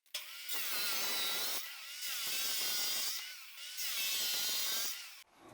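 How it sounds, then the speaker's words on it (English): A wet tile saw cuts slate floor tiles, trimming a few inches off each piece, in three long loud grinding passes separated by short pauses. "we're going to cut 3 inches off of these tiles"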